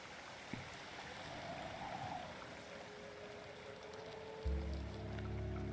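Purple water flowing in the video game Wuthering Waves, a soft, steady trickling stream with faint droplet sounds, quiet and continuous, joined near the end by a low droning hum.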